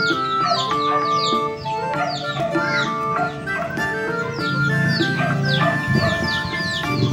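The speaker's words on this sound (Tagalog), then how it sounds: "nag-aabang ang aming mga chickens" Chickens cluck and squawk close by in a busy, overlapping chorus, with a rooster-like call among them and faint voices in the background.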